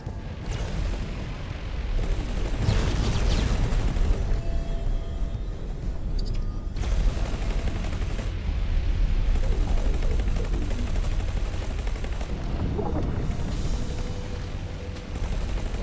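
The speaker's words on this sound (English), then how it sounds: "stop firing dumbfire missiles at me, you stupid construction ship" Space combat in X4 Foundations: dumbfire missiles launching and repeated explosions, a continuous barrage of booms and rapid fire over about sixteen seconds, loud and dense, with no voices.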